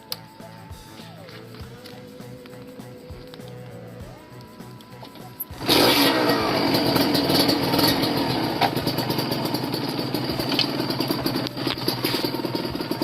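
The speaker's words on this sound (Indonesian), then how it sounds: "Kita coba cek soundnya motor ini." Kawasaki Ninja RR SE two-stroke motorcycle with separate oil injection, engine idling at first with a faint pitch that shifts, then revving loud and steady, close up.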